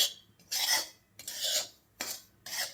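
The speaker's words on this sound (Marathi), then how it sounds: "अशा पद्धतीने आपल्याला हा रवा भाजून घ्यायचा आहे तुपामध्ये" Semolina roasting in ghee is scraped and stirred with a utensil in four distinct gritty strokes, each a short rasping sweep separated by brief quiet gaps, close and fairly loud.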